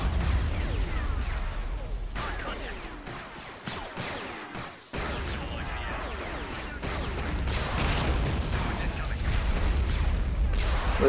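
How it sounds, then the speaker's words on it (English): Dense, continuous cannon fire and booming blasts rumble through a Star Wars battle video game with droids attacking on Mygeeto, a loud layered barrage of overlapping shots and explosions with a brief lull midway. "Just because I put two on cannons."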